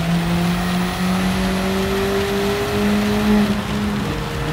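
Race car engine in Gran Turismo 7 during a European championship race, a steady loud drone with sustained engine pitch holding and slowly shifting throughout, plus tire noise, with no talking.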